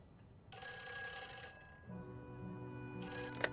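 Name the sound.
mobile phone ringing in Nancy Drew: The Phantom of Venice video game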